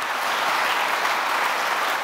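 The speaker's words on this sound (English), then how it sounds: "yes, you can applaud that" An awards-night audience claps steadily at a charity ceremony, a full, even applause that runs throughout without talk.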